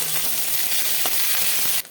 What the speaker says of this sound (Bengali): তেলটা গরম হয়ে গেছে দিয়ে দিলাম নিম পাতা ভালো করে ভেজে নেব